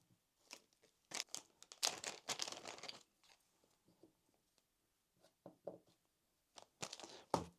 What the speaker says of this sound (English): I'm going to open them up and put them on the table so you can see them nice and clearly.